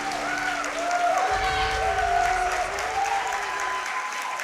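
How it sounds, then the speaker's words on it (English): A large convention crowd at a live speedrun charity marathon applauds commentators, producing a steady, dense wash of clapping that holds loudly for several seconds with a faint tonal hum beneath it. "if you could just extend that round of applause just a bit for those guys"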